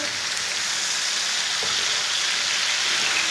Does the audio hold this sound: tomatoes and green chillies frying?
yes